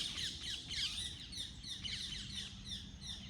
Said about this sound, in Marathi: पक्ष्यांचा एवढा छान आवाज येतोय ना